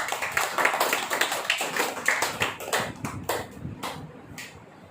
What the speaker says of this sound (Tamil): கைத்தட்டி ஆண்டவர் மகிழ்ச்சிப்படுத்துவோம்